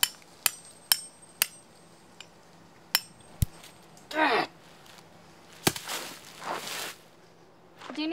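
Repeated sharp hammer strikes driving a stake into hard ground outdoors, a series of irregular near impacts with pauses, followed by scraping and rustling handling sounds.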